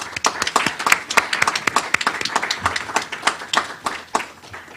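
At a panel on space governance, the audience gives a round of applause for the hosts, a loose, close clatter of individual claps with distinct sharp hits, fairly loud and uneven throughout.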